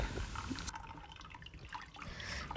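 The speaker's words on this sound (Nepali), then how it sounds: "अनि पनिरलाई चाहिँ यसरी राखेर छान्दैछु" Water drips and trickles as paneer strains through a cloth, a steady, soft wet patter close by with no speech.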